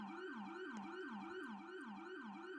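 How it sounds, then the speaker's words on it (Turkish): Ambulance siren in a Roblox video game, a loud continuous wailing tone sweeping steadily up and down in a fast repeating cycle, heard alone throughout. "Ambulans sesi var burada."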